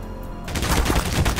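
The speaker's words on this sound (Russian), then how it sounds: "Вот это выстрел." A quick burst of rapid, loud gunfire rattles off in close succession in the video game Garry's Mod, sharp and punchy.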